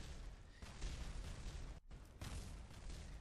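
Rocket parts from a failed Kerbal Space Program launch blowing apart after crashing into the ground, a faint spread of bursts and booms with a short gap before another rumbling blast.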